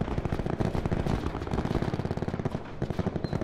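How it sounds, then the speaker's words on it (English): Rapid automatic gunfire from the shooter game Black Ops 4 during a Search and Destroy match, a dense rattling burst of shots close and loud, continuing without pause for several seconds. "I tapped my gun by accident."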